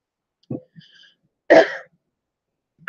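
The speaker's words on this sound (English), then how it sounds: "I'm coughing my face off" A person coughs and clears their throat in a few short, separate bursts, close by, with silence between them.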